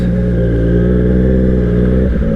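Triumph Street Triple 765 RS motorcycle riding through traffic, its engine a loud, steady close-up drone held throughout, with a brief shift in tone near the end.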